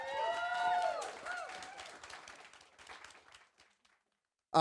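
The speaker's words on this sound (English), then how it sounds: "Give him a round of applause, please" Applause from a small audience at a hospitality industry talk, starting under a voice or tones and then thinning and fading to near silence over a few seconds.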